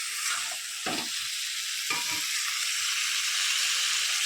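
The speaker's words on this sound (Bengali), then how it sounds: "পটল আলু দিয়ে ডিম তরকারি করব তাই এই সবজিগুলোকে ভালো করে কষিয়ে নিচ্ছি" Pointed gourd and potato sauté in hot oil for an egg curry, a steady close sizzle with two brief scraping stirs near the start and no one talking.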